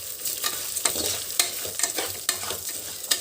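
Rice frying in oil in a pan for jeera rice, a steady close sizzle broken by repeated scraping stirs at an irregular rhythm, with no voices.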